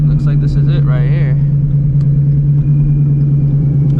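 A Shelby GT350 V8 rumbles at low speed as it pulls into a car park, a deep, steady drone that holds throughout, with someone speaking briefly at the start.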